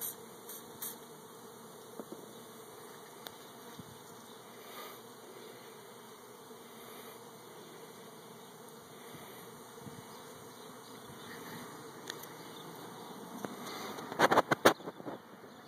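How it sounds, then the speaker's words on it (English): Bees buzz in a faint, continuous drone, with a few louder passes of individual insects flying close near the end. "I know there's a bunch of bees in there"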